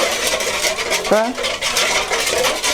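A spoon stirs a glass of water with a teaspoon of salt in a bowl while making dough for Udmurt perepechi with cabbage, giving a soft continuous swirl with one brief clink, close and fairly loud.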